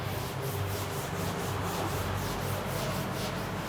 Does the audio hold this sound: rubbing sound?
yes